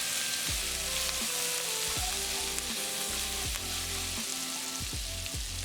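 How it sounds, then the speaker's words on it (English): Minced garlic, five cloves, sizzles in a hot pan for a creamy kimchi bacon pasta, giving a steady close frying hiss. Repeated low scraping thumps from stirring run through it, with background music and no talk. "Now we're going to add in 5 cloves of minced garlic and cook for about 1 minute until fragrant."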